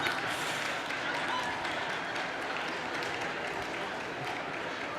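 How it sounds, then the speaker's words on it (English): Applause from a church congregation during a sermon, a broad steady wash of clapping at moderate level, with speech-like murmur mixed in. "A lot of applause"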